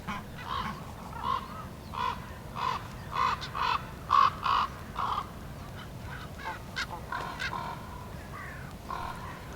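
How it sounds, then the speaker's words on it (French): Crows caw loudly and repeatedly in an outdoor setting near a forest while picking over the last leftover scraps of a carcass, their harsh calls coming in a steady series before thinning out. "Les corbeaux nettoient les derniers restes."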